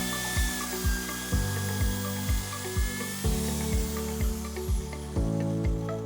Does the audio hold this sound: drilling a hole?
yes